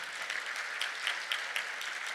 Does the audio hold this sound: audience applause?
yes